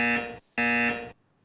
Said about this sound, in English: you will hear a double buzzer at 6 minutes